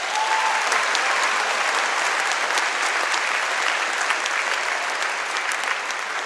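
A school assembly audience applauds students with a full, continuous wash of many hands clapping at an even level for several seconds, fairly close and uninterrupted by talk.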